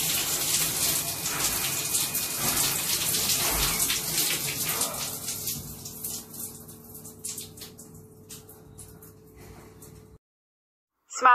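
Shower water runs onto a person standing in it fully clothed, a loud steady spray that thins into scattered drips and trickles before cutting off.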